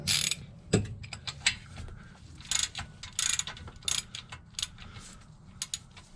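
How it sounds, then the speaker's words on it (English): Ratchet turning a bolt on a Subaru rear differential, with quick uneven runs of crisp clicking strokes and short pauses between them, close up and alone. "Go a little faster, I'll use a ratchet."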